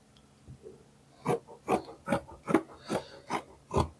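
Scissors cut through fabric along a chalk line to shape a square for a handkerchief-flare peplum: about eight crisp, regular snips close by after a quiet start, with no talk.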